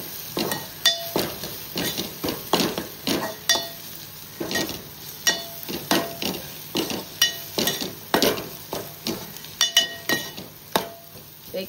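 Onion and tomato sautéed in a pan with biryani masala, turmeric and Agri masala, a spoon scraping and clinking against the metal in a steady rhythm of sharp strokes over a soft sizzle, close and fairly loud, no talking.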